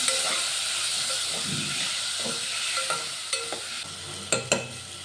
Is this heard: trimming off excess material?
no